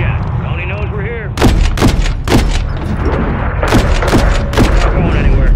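A gunner lays down cover fire in the Call of Duty Modern Warfare III campaign mission Danger Close: loud, sharp gunshots in uneven bursts with heavy booming reports, while radio voices talk underneath.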